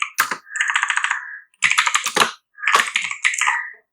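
Fingers tap quickly on a computer keyboard in three close, busy bursts of clicking with short pauses between them, and no voices are heard.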